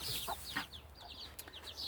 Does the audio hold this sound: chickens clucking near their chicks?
yes